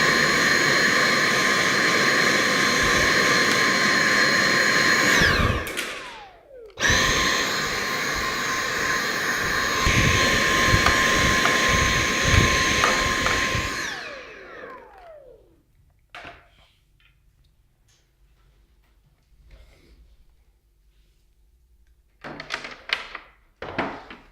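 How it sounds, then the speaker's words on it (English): A vacuum cleaner cleaning the mesh screen of a Vollara Fresh Air Cube air purifier: a loud, steady whining roar, briefly cut off, then running again before winding down, followed by a few faint knocks. "now we got it all vacuumed out"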